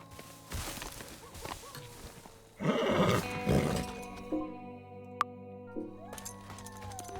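A horse in the video game Teardown gives a brief whinny amid soft hoof clatter and game ambience, with a sharp click partway through.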